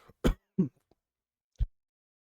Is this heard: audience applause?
no